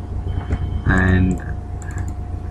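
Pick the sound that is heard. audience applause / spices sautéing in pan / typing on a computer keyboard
typing on a computer keyboard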